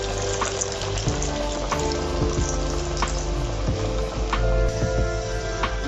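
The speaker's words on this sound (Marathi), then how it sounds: "तर अशा प्रकारे हा आपला रोल तळून झालेला आहे." A vegetable roll deep-fries in hot oil over a low flame, giving a loud, steady bubbling sizzle with occasional pops and crackles, close up and continuous.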